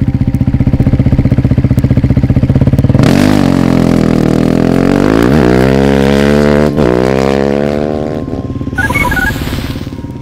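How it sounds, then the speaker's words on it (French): A Dakar Rally motorcycle pulls into a checkpoint, its engine rumbling close and loud at a steady idle before revving hard, dipping between throttle blips and trailing off as it settles. "première moto à CP3, le numéro 6"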